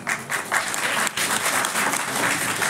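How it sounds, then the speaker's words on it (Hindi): An audience at a school classical dance performance claps in a thick, continuous burst, loud and close, with slight swells in intensity and no talk. "तो एक बार ही आप सिर्फ अकेले आप तालियां बजाइए जरा."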